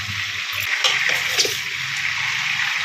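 Water runs and splashes off freshly washed mangoes as they drain, a continuous close gushing wash with a few brief bursts, no speech present.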